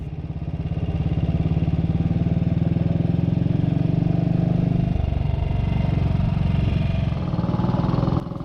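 A BSA B31 classic single-cylinder motorcycle on a track day circuit thumps loudly and steadily close by, its engine note dropping midway as it passes, with no talk over the engine.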